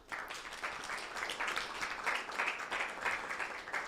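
An audience at a climate change prize competition event claps steadily for a welcomed CEO, a dense, continuous round of applause sounding fairly distant and even throughout.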